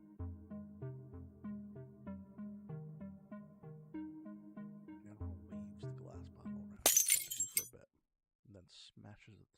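A ceremonial glass bottle smashed on the floor in the video game Warsim, one sudden bright crash with scattering shards that cuts into steady game music, followed by brief voice-like sounds.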